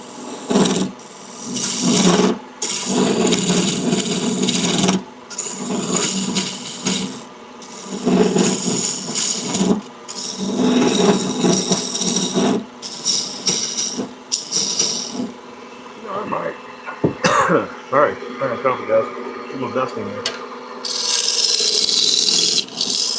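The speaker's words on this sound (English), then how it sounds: "we're gonna make this chunk of wood thinner, not as thick. With the rougher." A roughing gouge thins a chunk of wood spinning on a lathe while a bud vase is being turned, giving loud, rasping scraping passes in repeated bursts separated by brief pauses.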